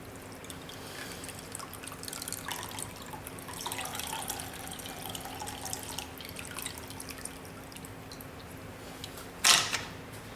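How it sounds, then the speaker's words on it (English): Mussel cooking liquid trickles and drips steadily through a tea towel, a faint continuous watery patter ending in a brief louder splash. "Just tip it into the tea towel. And that will drain through the tea towel."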